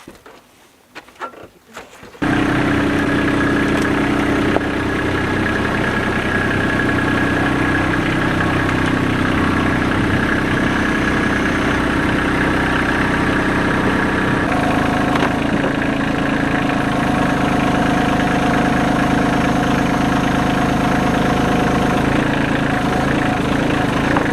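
A tractor engine idles steadily after a short rustle at the start, a constant low mechanical rumble with a faint whine, close and unbroken for the rest of the clip.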